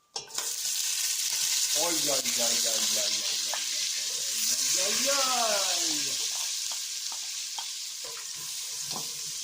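Onions sizzling with pork in a pan over low heat, a close, steady frying hiss that runs throughout while a person speaks briefly over it.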